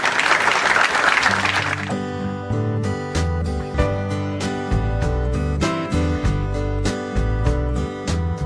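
Applause for lawyer Baltasar Trujillo at a Congress ceremony: about two seconds of dense, loud clapping, then the clapping gives way to rhythmic music with steady beats.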